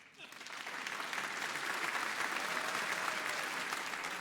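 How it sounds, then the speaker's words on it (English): Stand-up comedy audience at a Winnipeg comedy festival breaks into sustained clapping that swells within a second and holds steady, a dense, fairly distant wash of applause. "Clap if you're afraid of bears."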